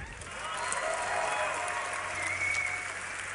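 A crowd at a Dreamhack Winter 2012 esports tournament cheers and claps steadily throughout, with dense, sustained applause that swells slightly in the middle. Whoops and shouts rise from the crowd over the clapping.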